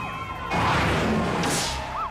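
A police car siren wails in the distance amid rushing traffic noise, with a sudden burst of road roar and a short rising sweep near the end.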